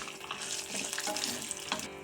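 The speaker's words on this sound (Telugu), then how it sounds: "పచ్చిమిర్చి, జీడిపప్పు కొన్ని వేసుకుంటున్నాను. ఇవంతా బాగా ఫ్రై చేసుకోవాలి." Green chillies and cashews crackle and sizzle loudly in hot tempering oil, a close, continuous frying hiss with small pops throughout.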